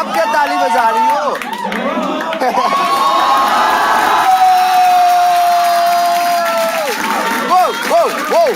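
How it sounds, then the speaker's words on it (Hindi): A lively stand-up comedy audience cheers and whoops loudly, with excited shouting voices rising and falling throughout and some clapping mixed in. "आप क्या ताली बजा रही हो?"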